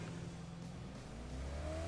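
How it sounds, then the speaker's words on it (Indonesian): An approaching car in the mobile battle-royale game PUBG Mobile: a steady engine drone with a rising whine toward the end, continuous and moderately loud. "belakang ada suara mobil juga."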